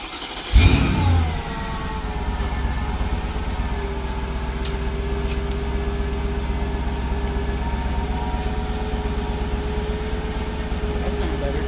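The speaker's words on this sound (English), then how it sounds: "That sounds better, don't it? Muffler's out. It's still relatively quiet and idle." A Mercedes ML55 AMG with its muffler removed idles after a brief start-up flare, settling into a low, steady, fairly quiet rumble that carries on to the end.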